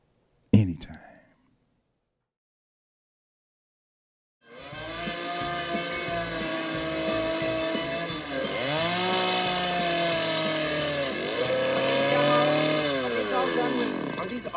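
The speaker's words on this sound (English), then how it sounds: "Are these all done with that? What is that called? Chainsaw? All chainsaw." After a brief knock and near silence, a chainsaw starts up and runs continuously, cutting into wood, its engine note dipping twice as it bogs under load.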